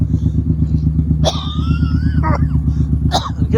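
A Suzuki M1500 motorcycle with dual hyperchargers rumbles steadily and loudly at close range with a pulsing engine note, while a dog barks and a whistling whine rises over it.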